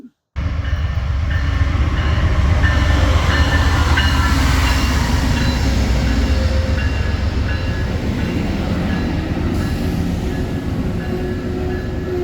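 An Amtrak Borealis passenger train heard from on board: a steady, loud rumble of wheels and carriage noise that runs continuously throughout.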